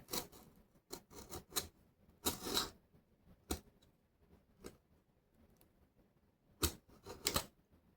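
A hobby knife slices into a cardboard box holding a Kato Amtrak GG1 model locomotive, giving sharp scattered cuts and scrapes in uneven bursts, close and quiet between strokes.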